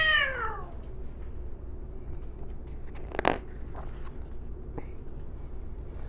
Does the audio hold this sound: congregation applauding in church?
no